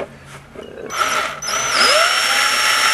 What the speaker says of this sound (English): so I'm watching the drill bit bend